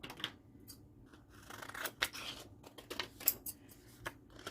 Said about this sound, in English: I'm going to cut out whatever shapes I decide I want to use. And I'm going to cut them out of whichever pieces I want.